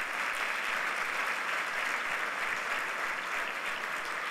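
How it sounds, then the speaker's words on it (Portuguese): Steady applause from a church congregation fills the whole stretch, an even wash of clapping at moderate volume with no pauses. "Então vamos dar um aplauso a Jesus por isso."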